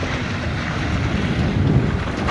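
A steady roar of wind and big rushing sea waves around a sailboat, buffeting and constant throughout, with no voices.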